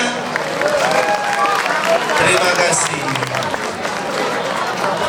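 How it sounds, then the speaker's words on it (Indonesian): Applause and cheering from a school crowd at an Isra Mi'raj assembly, loud and dense throughout, with a voice briefly speaking over the noise. "Mana tepuk tangannya?"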